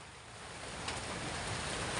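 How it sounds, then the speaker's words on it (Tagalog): Heavy rain pours down as a soft, dense, even wash of noise that swells slightly over two seconds, with no voices. "Sobrang lakas na ng ulan."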